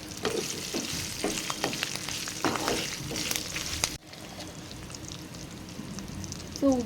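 Curry leaves frying in hot oil for pulihora, a steady crackling sizzle with stirring scrapes, briefly cut off and then continuing more quietly.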